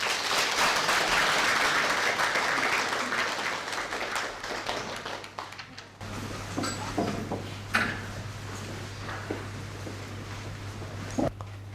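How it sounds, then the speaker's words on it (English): An audience at a Buddhist lecture gives Rinpoche warm applause: dense, sustained clapping fills the first half, then thins to scattered claps and room noise over a low steady hum. "Now let us welcome Rinpoche with warm applause."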